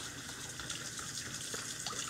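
Tap water runs steadily for a worm's bath, a continuous close splashing gush with no talking over it.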